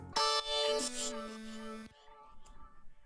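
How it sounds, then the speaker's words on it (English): A short vocoder vocal adlib with a robotic, harmonically rich sustained tone that holds for under two seconds. A faint blip follows it, with nothing else underneath. "In the end of this verse, I have this cute little vocoder adlib"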